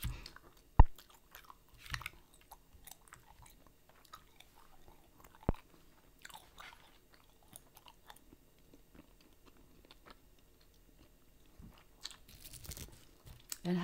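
Korean teddy bear bubble gum being chewed close up, soft wet smacks and occasional sharper snaps scattered irregularly across a quiet background with no talking.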